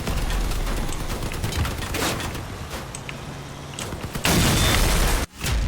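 Cannon fire and explosions in the vehicle combat video game Crossout: a dense, continuous barrage of booming blasts and bursts, loud and close, with a sharper, louder volley near the end.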